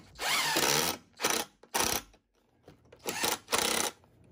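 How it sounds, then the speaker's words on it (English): A power drill drives Kreg pocket screws into the legs of a DIY wooden picnic bench in several loud, close bursts, each whirring and ratcheting with short gaps and a longer pause in the middle. "So the first thing we did was screw the Kreg screws in."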